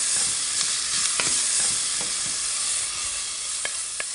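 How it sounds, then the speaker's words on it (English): Chopped onions and garlic sizzle and hiss steadily in a hot pan, with occasional scraping and tapping of a utensil as they are stirred, and no talking. "Now I just stir that and I saute it until the onions are soft, but not yet browned."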